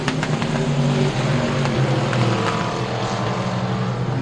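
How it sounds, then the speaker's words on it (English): Junior Limited Modified race cars run an A main at Rocket Raceway Park. A dense, continuous drone of several engines fills the air at a steady, loud level without pause. "It's time to go racing in the Camp Gladiator Emory Junior Limited Modified A main right here"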